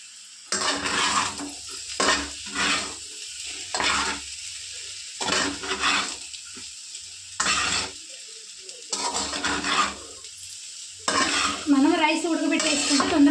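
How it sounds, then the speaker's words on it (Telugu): Fried rice gets stirred with chicken masala in a pan. Repeated bursts of scraping and tossing from a spatula against the pan come at an irregular rhythm over a faint sizzle, with short quiet gaps between strokes. "ఇప్పుడు చికెన్ మసాలా కొద్దిగా వేసుకుందాము కలిపేసుకున్నాం"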